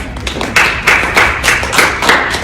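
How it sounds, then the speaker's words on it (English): A small group claps for guests at the end of a financial-basics interview, with close, loud, roughly regular bursts of hand claps for about two and a half seconds. "Guys, let's give them a round of applause."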